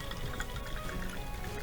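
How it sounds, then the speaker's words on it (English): Watermelon-flavored Coca-Cola being poured, a brief close trickle of liquid with fizzy hiss running steadily for under two seconds. "Let's pour it."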